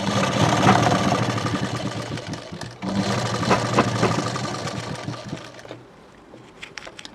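A sewing machine runs in a close, continuous mechanical whir, stitching fine seams on prince-cut blouse fabric, pausing briefly near the three-second mark before stopping and giving way to light handling noises.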